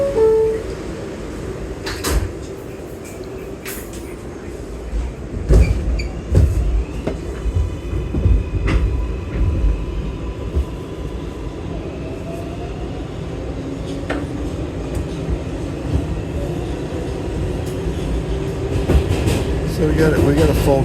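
An early-morning New York subway train rides toward Penn Station, its wheels rumbling and clattering steadily with occasional squeals and knocks, while people speak at times over the noise inside the car.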